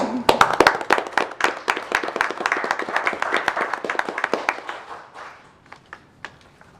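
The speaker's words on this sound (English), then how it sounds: "I think you deserve an applause" Applause at a county board of commissioners meeting, with distinct individual claps from a small group that start briskly and gradually taper off into a few scattered claps.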